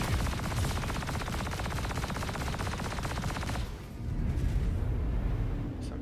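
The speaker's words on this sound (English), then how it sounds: "Some turret fire." Rapid automatic turret fire in the space-combat video game Star Citizen, a dense, steady stream of loud gunshots that stops abruptly partway through, leaving a lower rumbling background.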